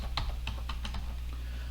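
Soft, irregular clicks of typing on a computer keyboard, about half a dozen keystrokes close by over a steady low hum, with no talking.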